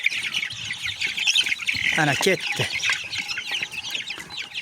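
Chicks cheep busily as they peck at egg, a dense run of high, overlapping peeps close by, mixed with a brief spoken voice.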